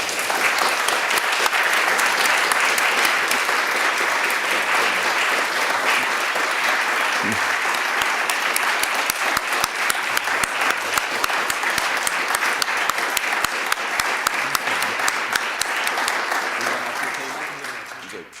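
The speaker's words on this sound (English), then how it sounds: "Could we have a round of applause for our speaker, please?" A forum audience gives a speaker sustained, dense applause that holds steady for most of the stretch before tapering off at the end, with faint crowd murmur beneath.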